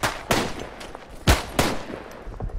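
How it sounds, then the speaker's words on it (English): Scattered rifle shots in the World War I shooter Tannenberg, a few sharp reports spaced apart over a low battlefield rumble. "They shoot the officer."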